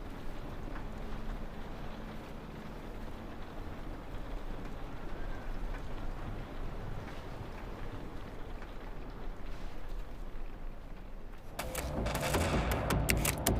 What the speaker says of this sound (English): And then just the sound of the wind